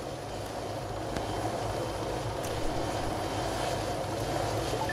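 A helicopter in a military shooter video game gives off a constant, fairly close rotor-and-engine drone that stays level and unbroken throughout.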